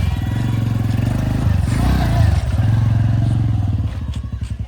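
A motorcycle engine idles close by with a steady low putter, rising briefly, then settling into a rhythmic chug.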